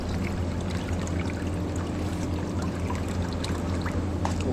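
Water pours steadily into a tank while about 20 liters collect for a resin filter calibration, a continuous splashing rush with a low rumbling churn, close and even throughout with no voices.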